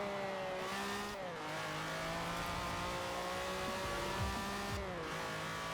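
A rear-wheel-drive Lamborghini Countach lapping a track in Forza, its engine note climbing, then dropping through two gear shifts, with a continuous mechanical hum and tyre rumble underneath.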